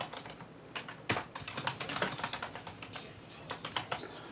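Rapid clatter of keys being typed on a computer keyboard at a table, close and fairly quiet, with a sharper keystroke early on and an uneven rhythm of clicks throughout, no voices.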